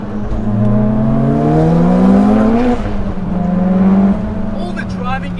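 Engine of a 600HP built 2.2L stroker Mitsubishi EVO X, loud and close, revving upward through the gears with a rising whine, then settling into a steady droning growl as it cruises.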